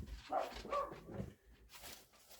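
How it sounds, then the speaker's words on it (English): A pet dog barks nearby in a workshop during turntable servicing, a few sharp barks and yips in quick succession close to the microphone, then quieter room noise. "Excuse my dog, he is barking."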